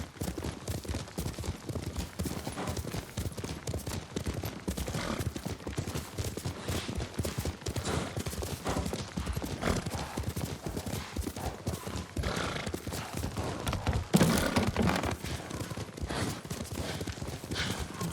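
Horse hooves during riding in Ghost of Tsushima, a steady, continuous clip-clop at a brisk gait, close and prominent, with a brief louder thump partway through.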